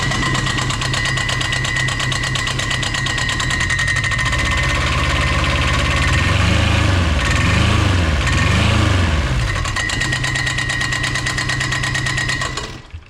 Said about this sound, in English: that's as low as it idles, and the clutch is still engaging